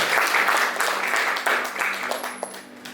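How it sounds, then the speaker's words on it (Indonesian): A church congregation applauds during a Sunday service, with steady sustained clapping from many hands that carries on under a voice. "Tepuk tangan untuk Tuhan yang luar biasa"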